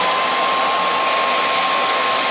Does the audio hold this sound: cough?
no